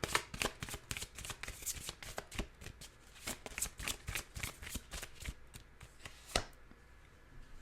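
An oracle card deck of Romance Angels cards is shuffled by hand in quick, close riffling flicks that come in a rapid, uneven rhythm, then stop near the end, with no one speaking.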